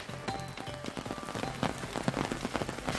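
Heavy, continuous rain pours in Valparai, Tamil Nadu, with dense patter and drops striking surfaces close by and no voices.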